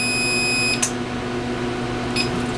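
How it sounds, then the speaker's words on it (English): A regular house oven timer gives a long steady electronic beep that cuts off, then a short second chirp follows, loud and close over a constant hum from the appliance. "That's our timer for 4 minutes."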